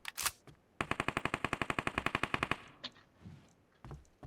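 Automatic gunfire in the battle-royale game PUBG Mobile: a rapid, evenly spaced burst of about twenty loud, close shots lasting nearly two seconds, preceded by a single sharp report and followed by quieter in-game shuffling.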